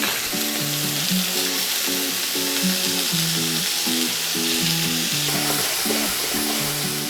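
Onion, tomatoes, ginger and garlic fry in a pan for chicken tikka butter masala, giving a constant, even sizzle beneath a steady melodic music track.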